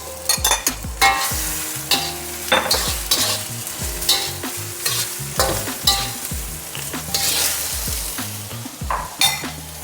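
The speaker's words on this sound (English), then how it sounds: "We're gonna add our shrimp." Shrimp hit a hot pan of egg-coated Yangzhou fried rice and are stirred fast: a steady, close sizzle broken by frequent scraping stirs and light spatula clinks, with no voices.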